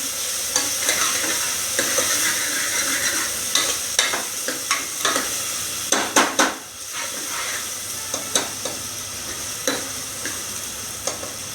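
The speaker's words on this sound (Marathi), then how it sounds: "मी छोटे कांदे प्रॉपरली शिजून घेतले" Small onions sautéing in a pan for misal, a steady loud sizzle with repeated sharp scrapes and clinks of a spatula stirring against the metal, close up and alone.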